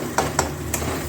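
Chutney being stirred with salt in a pan, giving a few soft scraping strokes over a steady low sizzle, close and alone.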